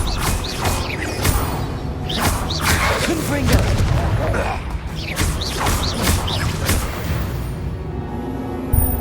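Confringo fire spells explode repeatedly in the Hogwarts Legacy video game, a run of loud booms and crackling blasts layered with game effects, while a voice speaks and shouts over them.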